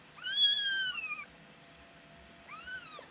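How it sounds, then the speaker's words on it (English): A tiny feral kitten gives two high, rising-and-falling meows close by, a longer cry at the start and a shorter one near the end, with a quiet pause between. "Oh, noisy kitten."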